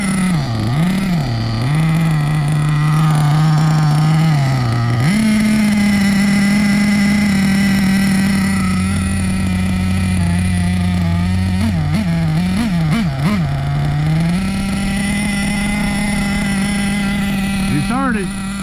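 Hobao Hyper SST .30 nitro RC car engine idling low during break-in, a loud close buzzing drone that wavers and surges in pitch, with someone talking over it.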